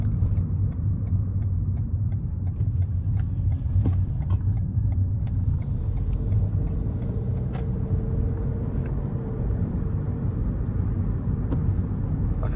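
A car engine hums steadily from inside the cabin as it accelerates while held in low gears, a loud, continuous low drone with no speech.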